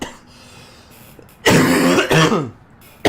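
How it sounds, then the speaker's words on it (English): Someone coughs and clears their throat in a loud burst partway through, with a quieter background hum before it and another sound beginning right at the end. "that made me cough"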